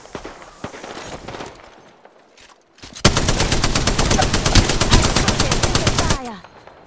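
Video game firefight with sustained rapid automatic gunfire, loud and close, following a few scattered shots and quiet movement before the long burst.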